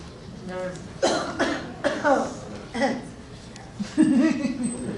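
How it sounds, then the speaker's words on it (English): A person clears their throat several times in short, rough bursts, close up, followed by a voice near the end. "I have to clear my throat."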